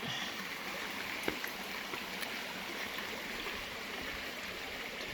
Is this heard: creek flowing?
yes